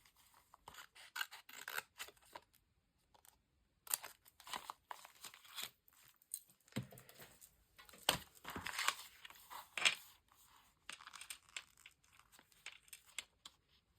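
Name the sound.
squeaky scissors cutting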